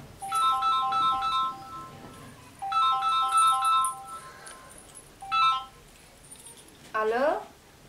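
A mobile phone ringtone plays in bursts of bright repeating electronic tones, sounding three times with pauses between, and a short rising chirp follows near the end; fairly close and clear with little else around it.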